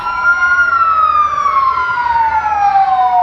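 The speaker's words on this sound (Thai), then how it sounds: "มาแล้วรถดับเพลิงมาแล้ว" A fire engine siren wails loudly and close at a school emergency, its tone gliding slowly downward in a long continuous sweep.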